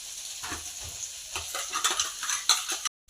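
Gongura paste dropped into a pan of sizzling chicken curry and stirred, soft frying hiss broken by scraping spoon strokes and clinks of the pot, close and intermittent, ending abruptly.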